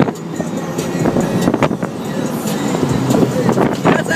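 A Mitsubishi Eclipse engine drops through the gears on a manual downshift from fourth to third, the revs rising and falling as a steady broadband roar from inside the car with brief bumps at each shift.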